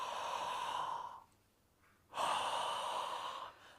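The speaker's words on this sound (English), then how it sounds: "what we're going to do is open up our mouth and breathe in" Two long open-mouthed breaths, each a steady airy exhale lasting about a second, separated by a quiet pause, close and clear with no talk, during a breathing exercise class.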